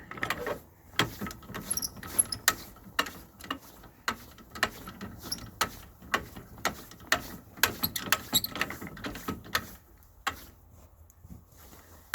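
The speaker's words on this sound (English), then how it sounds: "Let's see if that'll actually jack up the trailer" A trailer jack being cranked to raise a trailer, making a steady series of sharp mechanical ticks and clicks at a regular rhythm that pause briefly near the end before one last click.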